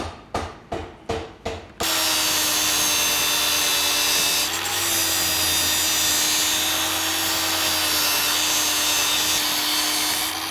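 A power drill boring a hole into a steel tube during a twin-turbo V8 Porsche 911 build: a few quick clicks, then a loud, steady whirring grind that holds to the end.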